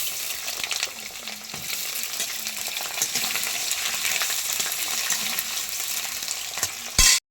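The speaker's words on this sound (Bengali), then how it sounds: "তেল গরম হয়ে গেছে দেখো আমি আলুগুলো দিয়ে দিচ্ছি লাল লাল করে ভেজে নেব" Potato pieces sizzle steadily in hot oil in a home kitchen, a dense, continuous crackling hiss at constant loudness that breaks off abruptly at the very end.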